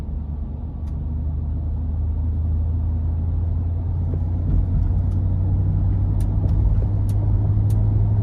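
Low, steady rumble of a 2023 Ford F-250 Lariat Ultimate pickup with a 7.3 V8 accelerating, heard from inside the cab with a few faint clicks over the engine drone.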